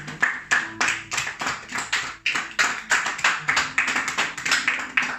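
Rhythmic group clapping at a French-language church gathering, sharp evenly spaced beats in a steady pulse, fairly close and clear, with no cheering or voices standing out.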